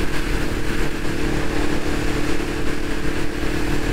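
A Kawasaki ER5 motorcycle riding at road speed, its steady engine drone mixed with strong wind rush, continuous and close from the rider's position.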